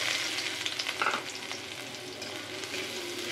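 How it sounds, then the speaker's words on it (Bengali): Onion fries in a pan with a steady, close hiss and crackle, broken by a few soft stirring scrapes early on, with no voices. "পেঁয়াজটা একটু ভালো করে ভাজবো।"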